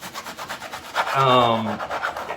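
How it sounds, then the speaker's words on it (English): Fresh wheatgrass is chopped into quarter- to half-inch pieces with a rapid run of soft rasping cutting strokes. A brief squeaky scrape rises in the middle, and the whole thing sounds close and moderately loud. "cutting it into about a half an inch to a quarter inch pieces."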